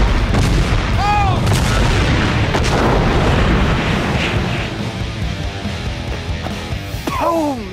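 A homemade cannon fires a bowling ball using match-head propellant, a heavy boom with rumble amid excited voices and gasps from nearby people.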